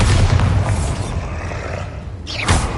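Bombarda blast spell cast in the video game Hogwarts Legacy: a dense, loud booming burst with low rumble, followed by a sharp second crack near the end.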